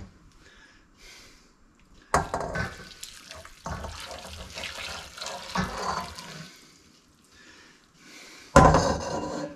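Homemade bone broth pours into a pot in several splashing bursts of liquid, with louder gushes between quieter pauses and a final strong pour near the end.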